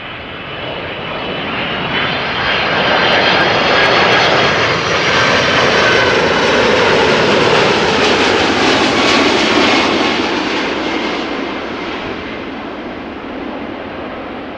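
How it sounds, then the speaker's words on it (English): A Boeing 777 airliner arriving from Rio de Janeiro at Amsterdam Schiphol, a loud, continuous broadband engine roar that swells and holds before slowly easing off, with no talk. "there is a 777 also arriving from Rio de Janeiro"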